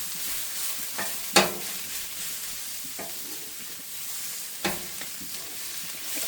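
Cabbage sizzles steadily in a frying pan while a spoon stirs it, with a few sharper scrapes and knocks against the pan standing out from the constant crackle.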